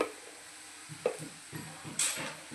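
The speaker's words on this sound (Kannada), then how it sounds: "ಇಲ್ಲಿ ಈರುಳ್ಳಿ ಬೇಯ್ತಾ ಇದೆ" Onions fry quietly in a pan at home while being stirred, with a soft sizzle broken by a few scraping, clinking strokes of a spoon.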